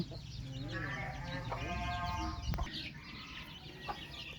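Chickens cluck in a lively, overlapping chorus with short rhythmic calls, close by, while a person speaks over them.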